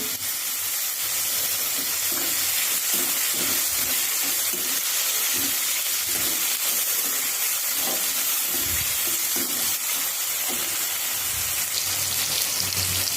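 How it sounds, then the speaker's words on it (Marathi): Chopped tomatoes sautéing in a pan for sprouted moth bean usal, a steady close hiss and sizzle with soft irregular stirring thumps running throughout. "टमॅटो घालून चांगलं परतून घेऊया"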